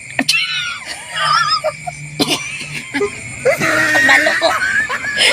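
A person imitates a horse neigh with a series of shrill, wavering whinny-like vocal bursts during a family question-and-answer guessing game, close and loud, with brief speech mixed in.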